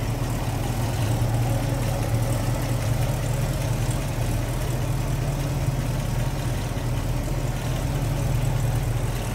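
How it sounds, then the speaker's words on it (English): A 1969 Ford Torino GT fastback's 351 four-barrel V8 idling with the hood open, a steady, smooth low rumble held close and constant throughout. "There's a 351 four barrel. See how nice and quiet and smooth that runs."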